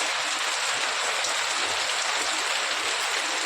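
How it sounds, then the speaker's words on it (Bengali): Steady heavy rain pours onto surfaces in a dense, unbroken hiss that stays loud and close the whole time, with no voices. "এই টাইমে বৃষ্টি নামলো"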